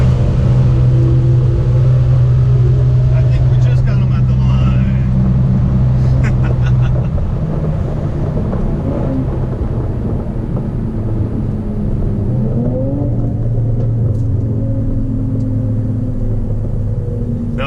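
A Hyundai Elantra N races down a dragstrip, its engine and road noise forming a loud, steady rumble from inside the cabin, with the pitch shifting as it accelerates and the roar continuing throughout without speech.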